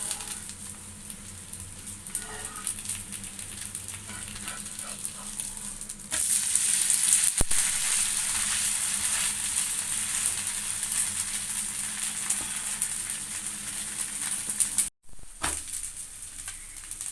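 An adai dosa sizzles steadily on a hot pan after being flipped, a continuous broadband frying hiss that grows louder partway through and briefly cuts out near the end, with no one talking.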